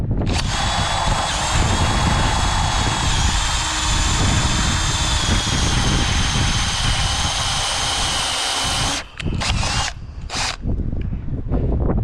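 A power drill bores out an old bolt on a used toy hauler. A loud, close, sustained high whine grinds on for about nine seconds, then stops, and a few short bursts follow.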